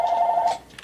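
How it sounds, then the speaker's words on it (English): A telephone gives one short warbling electronic ring, close and fairly loud, that stops abruptly after about half a second. "Answer the phone, Michael."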